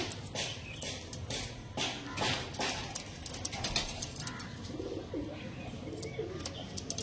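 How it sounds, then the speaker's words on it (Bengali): Pigeons, a pair of domestic birds kept for sale, coo steadily at close range in low throaty bursts, with scattered chirps, wing flutters and rustling around them. "চলুন পায়রাগুলো ছেড়ে দেখিয়ে দিই"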